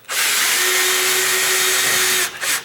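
Power drill driving a screw into a loose door hinge, one continuous close, loud whirring run of about two seconds, then a short second burst.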